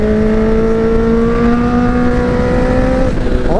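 A motorcycle engine revs hard and loud and close, holding a high, steady whine before the pitch climbs sharply near the end.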